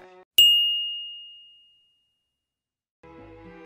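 A phone notification ding rings out as one loud, bright chime that slowly fades over about a second and a half, followed by silence. Quieter music comes in before and after it.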